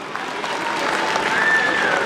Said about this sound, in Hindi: एक बार जोरदार तालियां बजा के इनका अभिवादन कीजिए।